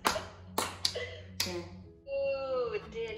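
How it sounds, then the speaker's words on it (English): A young child claps along to "If You're Happy and You Know It" at home during an online lesson: three or four sharp, separate claps, then singing voices. "if you laugh, clap your hands"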